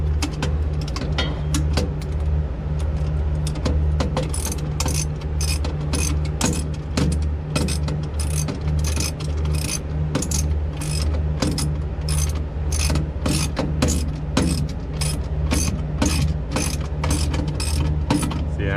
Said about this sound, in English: I can use this deep socket to go that way